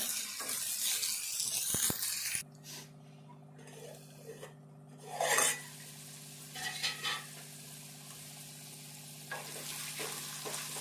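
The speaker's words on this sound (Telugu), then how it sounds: "కలుపుకొని కొంచెం స్టవ్ సిమ్లో పెట్టుకొని ఇది దొండకాయ ఫ్రై చేసుకోవాలి." Ivy gourd pieces fry on a low flame for a prawn curry. A soft, broad sizzle at the start settles into a quiet frying hiss over a steady stove hum, with occasional light stirring sounds and no talking.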